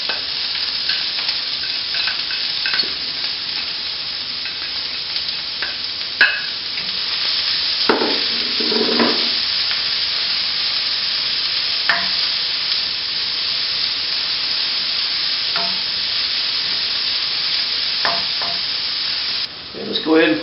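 Garlic and ginger sizzle loudly in a hot pan during a stir-fry of quinoa with veggies, a steady close hiss with occasional scraping stirs and brief spits throughout.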